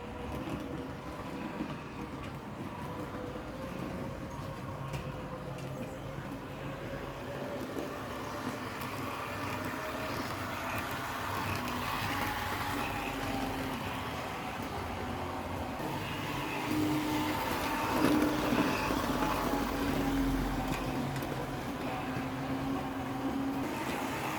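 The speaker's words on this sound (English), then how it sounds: "It's got the serrated wheels, so it makes that sort of whining noise on the track." A Triang R155 diesel switcher model train with serrated wheels and a motor bogie runs along the track, giving a steady, faint whine over a continuous low rumble.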